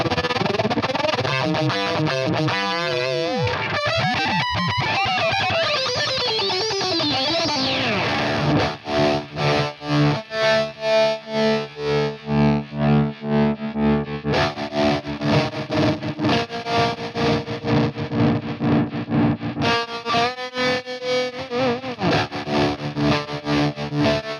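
Warm Audio RingerBringer ring-modulator effects pedal processing a signal: a sweeping distorted metallic tone at first, then pulsing, bell-like ring-modulated chords in a steady rhythm, loud and close with no talking.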